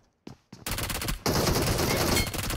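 PUBG Mobile gunfire: after a couple of isolated shots, a loud, sustained burst of rapid automatic fire rattles close by for about two seconds with no speech.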